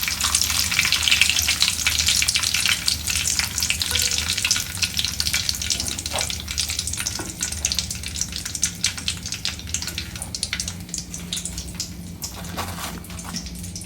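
Vegetable rolls coated in breadcrumbs deep-frying in oil, a loud, continuous, crackling sizzle heard up close throughout.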